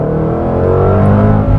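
Jaguar F-Pace SVR SUV exhaust in its default mode with the flap closed, a steady, loud, low engine drone heard close, with no talking.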